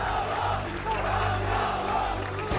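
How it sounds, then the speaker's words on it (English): A large arena crowd at the GSL 2019 Season 2 StarCraft II grand finals roars and cheers steadily and loudly, a dense sustained wash of voices with shouts rising out of it. "The audience is cheering."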